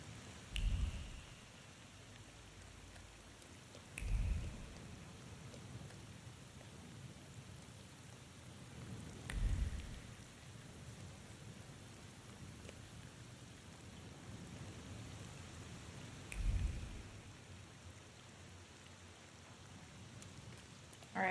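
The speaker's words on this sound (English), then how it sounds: "Oh, it's raining." Soft, steady rain falls throughout, a faint even hiss broken by a few dull low thumps at regular intervals; no voices.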